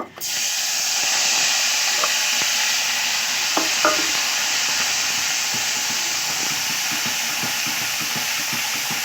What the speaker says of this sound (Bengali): এইভাবে আমি একটু মশলাগুলো সব ভেজে নেব।